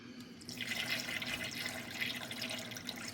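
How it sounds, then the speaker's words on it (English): Water poured into the reservoir of an AFFLAT indoor hydroponic garden, a steady close splashing trickle that starts quietly and swells after half a second, continuing evenly with no talking. "so I could put a little bit more water in there."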